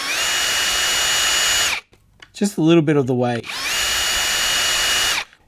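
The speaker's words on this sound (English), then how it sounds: "Now, I'm going to take this drill and just drill in" A handheld power drill bores into a plastic model canopy in two steady whining bursts, close and loud, with someone speaking briefly in the pause between them.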